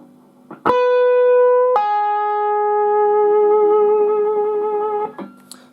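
A pull-off lick rings out on electric guitar: a few sustained, clear notes falling in pitch, each held and stepping down before a quick muted end, with no voice over it.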